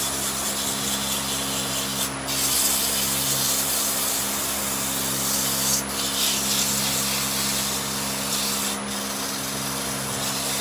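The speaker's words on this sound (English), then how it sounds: "So down to just low speed and a very light sand with a 600 grit" A turned wooden bowl spinning on a lathe at low speed gets a light pass with 600-grit abrasive, giving a steady, loud hiss of sanding over a low motor hum, with brief shifts in pressure every few seconds.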